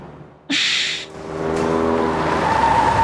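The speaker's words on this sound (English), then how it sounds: "I'm surprised that car is still in one piece, twirling around at that speed" A car spins around at speed in a parking lot: a sudden loud tire squeal cuts in, fades, then the engine rises into a steady, building whine.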